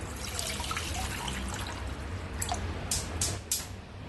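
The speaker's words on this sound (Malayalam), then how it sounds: "ഇത് വേവിച്ചെടുക്കാൻ വേണ്ടി അടുപ്പത്ത് കുക്കറിലേക്ക് 3 കപ്പ് വെള്ളം ഒഴിച്ച് നല്ലോണം ചൂടാക്കാം" Water dribbles and drips into a metal pressure cooker on the stove, a soft steady trickle over a low background hum, with a few brighter splashes near the end.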